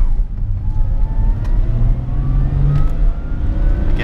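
A BMW E30 with freshly rebuilt suspension drives and accelerates, its mid-pitched engine droning steadily and rising slightly as the throttle opens, heard from inside the car with continuous road rumble underneath.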